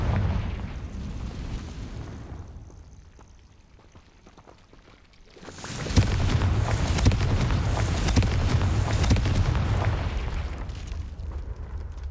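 Confringo fire spell explosions burst in the Hogwarts Legacy video game: a quieter stretch gives way around the midpoint to a loud, sustained run of booming blasts and crackling impacts.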